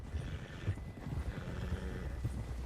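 A horse in Red Dead Redemption 2 galloping with muffled, fairly faint hoofbeats in steady rhythm over a low rumble, with a hint of neighing.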